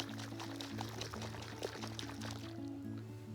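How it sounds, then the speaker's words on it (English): Water poured from a container into a jar holding garden soil samples, a steady continuous fill beneath a low hum, close and moderately loud with no talk. "now we fill it with water. So, fill the jar with water, leave a wee gap at the top"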